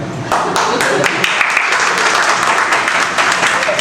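Dense audience applause fills a gym-themed stand-up comedy show, starting abruptly and continuing steadily and loudly as a broad wash of many hands clapping at once, with faint voices mixed in.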